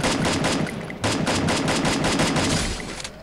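Rapid automatic gunfire in the mobile battle royale game Free Fire played on an iPad, loud, close bursts of quick, evenly spaced shots with a brief break near the one-second mark, then continuing before tailing off.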